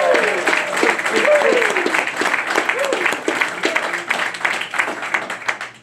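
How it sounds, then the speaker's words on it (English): An audience at a music event breaks into sustained applause with dense clapping that slowly tapers, while a voice cheers or speaks over it. "How about a round of applause?"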